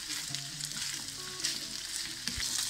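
Köfte meatballs fry in a pan with a steady crackling sizzle, close and moderately loud, with occasional sharper pops and scraping from turning them.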